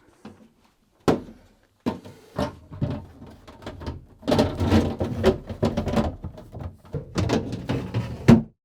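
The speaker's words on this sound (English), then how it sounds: "Then replace any drawers and shelves," Plastic drawers and shelves are slid and clicked back into a fridge freezer, a run of close knocks, scrapes and thunks of varying loudness separated by short pauses.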